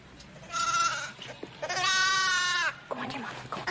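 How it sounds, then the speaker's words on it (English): A lamb bleats twice, up close, with long, wavering, nasal cries at lambing time on a ranch, the second cry longer than the first, and people talking around the calls. "Poor lorn thing. Well, Trudy, something like this happens every lambing time"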